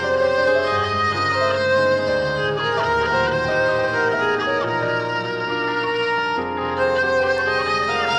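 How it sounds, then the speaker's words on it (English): Melodic violin music plays steadily and fairly loud for the whole stretch, with sustained bowed notes over a fuller musical backing and no talking. "Can you guess the musical instrument? Yes, it's a violin."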